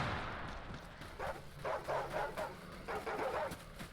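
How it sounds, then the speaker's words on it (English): Several dogs bark in quick bursts while chasing the player in the video game Stay Out, the yips and woofs coming in rapid clusters over a steady background hum, moderately near. "You can hear all the dogs coming after me"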